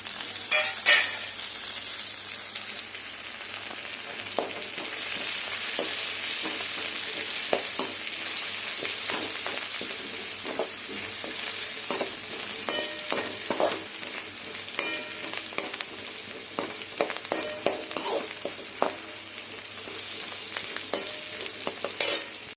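Onions with a pinch of salt sauté in a pan, a steady close sizzle with irregular scraping and clicking from stirring utensils throughout, no talk.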